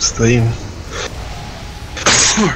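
A single close, sharp sneeze bursts out in a quiet room, and someone speaks briefly before and after it.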